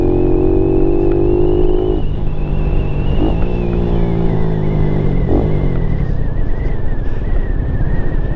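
A carbureted Lifan KP Mini 150 motorcycle engine drones steadily while riding, loud and close throughout, its pitch sagging and rising through gear shifts around a few brief dips in revs.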